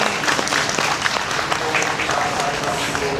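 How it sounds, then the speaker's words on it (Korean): An audience at a memorial gathering for COVID-19 and vaccine victims applauds a former deputy prime minister. The clapping is dense and sustained, filling the room evenly from start to finish. "우리 황우여 전 부총리님께 여러분 다시 한번 따뜻한 박수 부탁드리겠습니다."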